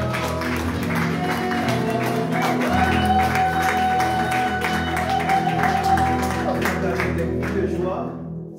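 A church congregation cheers and applauds the Lord Jesus with loud, continuous clapping and whoops, mixed with music and voices throughout.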